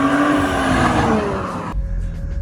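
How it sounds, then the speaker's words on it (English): A 2018 Audi S5 3.0T with its stock intake makes a loud drive-by pull, its engine note rising and sweeping past up close before cutting off sharply into quieter background. "It's the drive-by pull with the stock intake."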